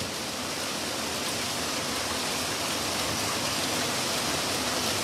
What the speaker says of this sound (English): That's an intense hailstorm.